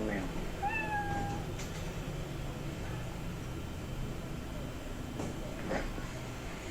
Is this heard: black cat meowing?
yes